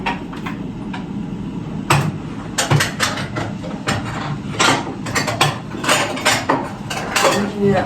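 Clinking and clattering of glassware and dishes being set down and shifted, a run of sharp knocks and rattles close by.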